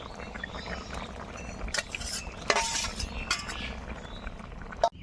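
Fried bitter gourd and eggplant pieces go into a simmering Bengali shukto curry with milk, giving soft clinks and stirring scrapes of a utensil against the pot over a steady low bubbling, with a sharper clatter near the end.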